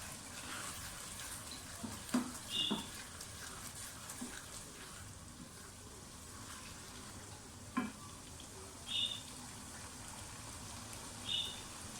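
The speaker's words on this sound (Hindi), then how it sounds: "एंड पे दाल की भुनाई बहुत ज़रूरी है।" Mash dal fries and roasts in a pan with a faint, steady sizzle, broken by a few soft stirring scrapes and light pops.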